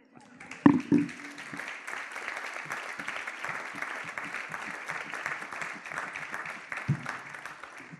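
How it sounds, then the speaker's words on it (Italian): Sustained audience applause at a live Italian talk on laughter and breathing, dense even clapping filling the space for several seconds with a couple of louder knocks early on. "Adesso fate un applauso"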